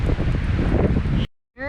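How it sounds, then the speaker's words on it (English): Strong wind roars steadily across an open lake during a spring canoe trip in the Algonquin backcountry. The gusts are loud and close before cutting off abruptly. "Oh boy, it's windy. It's so windy."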